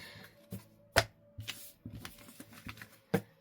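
Tarot cards shuffled and handled slowly, giving a series of soft papery riffles and sharp card snaps at irregular intervals, close and fairly quiet.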